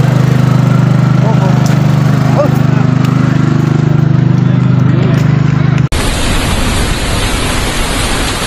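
A generator engine runs at a rural spot during heavy rain, a loud, constant rumbling drone. It cuts abruptly near the end, and a hissing, noisy wash of rain and wind follows.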